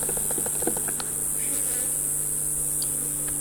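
Honey bees buzz at a crowded beehive during a hive split, a steady close hum with a few brief louder passes of individual bees near the microphone, no talking.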